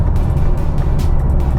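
A V6 car cruises and changes lanes, giving a steady loud low engine and tyre rumble from inside the cabin with faint brief swells of passing noise.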